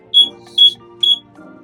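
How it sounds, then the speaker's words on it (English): A smoke alarm gives three short, high-pitched beeps at a steady rhythm, close by, with a low background hum. "The bloody fire alarm's going off."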